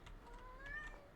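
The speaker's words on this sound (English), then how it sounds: "So you're all just hearing meow, meow, meow," A house cat near the microphone gives a faint, thin, drawn-out meow over soft background noise, with no speech.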